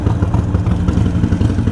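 A Harley-Davidson Iron 883 running a canned fuel map catches and starts, settling into a loud, close, lumpy V-twin rumble with clattery mechanical noise.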